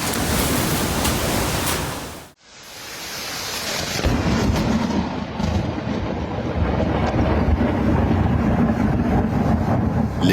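Strong hurricane wind with gusts reaching 240 km/h roars as a dense, continuous broadband rush. It cuts out briefly after two seconds, then returns just as loud and steady, with a rain-like hiss underneath.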